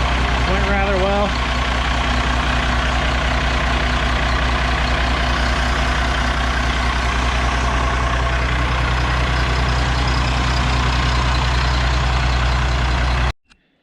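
An International Loadstar truck engine runs at a steady loud diesel idle with a constant low rumble throughout, then cuts off abruptly at the end.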